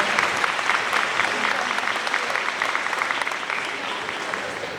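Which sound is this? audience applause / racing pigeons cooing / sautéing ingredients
audience applause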